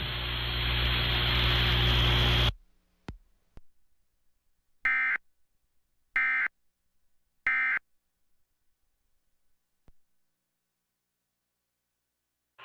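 Emergency Alert System test tones on a broadcast station: a loud harsh attention tone that cuts off, then three short bursts of digital data tones spaced about a second apart, followed by near silence.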